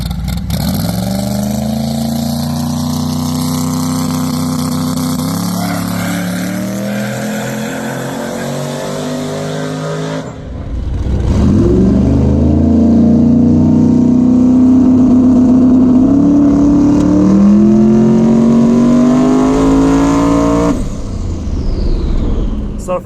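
A drag car accelerating hard down a coarse bare asphalt strip, its engine revving up loudly, dropping at an early shift around midway, then climbing again in a second long pull before fading.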